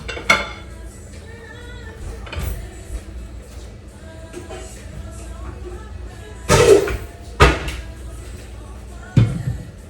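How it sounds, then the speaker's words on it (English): A metal pasta drainer is pulled out from among pots in a home kitchen, giving several loud clanks and clatters spread across the stretch, with quieter rattling between them. "while I get my pasta drainer out"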